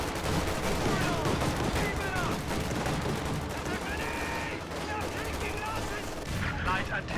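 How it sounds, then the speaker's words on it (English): An MG42 machine gun rattles in a WWII strategy game amid a dense battle din of continuous gunfire and explosions, with a voice talking over parts of it. "MG42 firing on more grenadiers, which are positioned in green cover"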